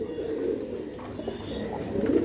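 Giribaz pigeons coo nearby in a low, rolling murmur that repeats and swells slightly toward the end, with faint background noise.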